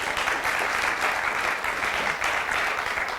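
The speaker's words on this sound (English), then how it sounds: "Let's give our entrepreneurs a round of applause." Steady applause from an audience at an entrepreneurship day panel presentation, a dense even wash of many hands clapping throughout, moderately loud and with no voices over it.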